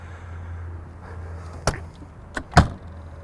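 Power locks on the exterior bay doors of a 2022 Newmar Supreme Aire 4590 Super C motorhome clunk shut, three distinct mechanical thuds over a low engine-like hum.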